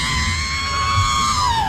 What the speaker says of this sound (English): this is the scream we're going to be using from R2